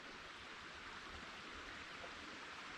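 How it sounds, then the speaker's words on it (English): Old Mill Creek, a babbling brook in an old mining area, runs with a steady, broadband rush of flowing water that stays even and continuous throughout, with no voices over it. "listening to the babbling brook"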